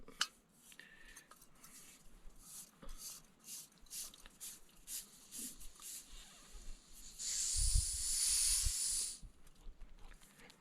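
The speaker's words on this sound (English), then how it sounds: "you grab one of these little butane propane fuel cartridges here, and it simply just screws on to the top." A butane propane fuel cartridge is screwed onto a camp stove, with small metallic scrapes and taps. Near the end comes a louder, sustained hiss of gas lasting about two seconds, close and with no voices.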